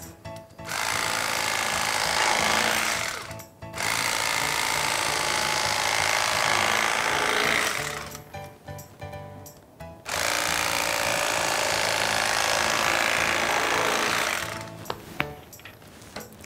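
A Thanko Electric Knife Slim saws through bread with a steady, loud mechanical buzz of rapidly reciprocating blades, running in three long stretches broken by brief pauses.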